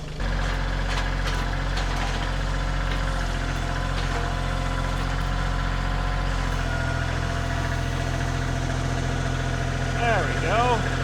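A tractor engine runs steadily at a loud, close, even idle-like drone throughout, near heavy logs being handled.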